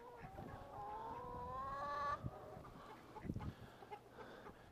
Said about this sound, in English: The leghorn roosters.